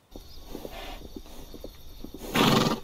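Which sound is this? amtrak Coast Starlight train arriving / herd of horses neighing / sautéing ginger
herd of horses neighing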